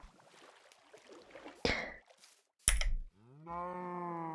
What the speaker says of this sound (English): Oh, new cows!